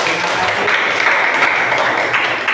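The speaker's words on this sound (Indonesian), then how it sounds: "tepuk tangan buat kelompok 1" Classroom applause for a student presentation group, a dense, even wash of clapping from many hands at close range that holds steady throughout without a break.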